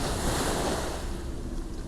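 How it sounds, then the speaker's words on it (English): Water on a tiny beach along the River Thames in London at high tide laps and washes in a steady, close rush, with breezy wind noise against the microphone and no voices. "here is one example of a tiny beach on the River Thames."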